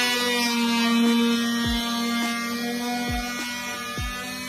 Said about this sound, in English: Raise your blade in your oscillating saw and it cuts through this stuff.